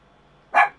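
A single short dog bark indoors, fairly close and loud, rising suddenly from a quiet room and fading quickly, with no talk over it.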